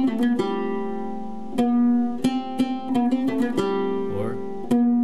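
An oud plucks a descending phrase with added doubled 16th notes, a close, clear run of quick plucked notes in uneven rhythm over ringing strings.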